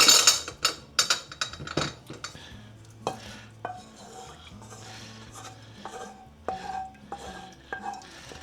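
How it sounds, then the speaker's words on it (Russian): A frying pan rinsed in a kitchen while soup is being made, with clattering metal knocks and clinks, scraping and light sloshing in irregular bursts, close and fairly quiet, with no talking. "И немножко прополоскаем нашу сковородку"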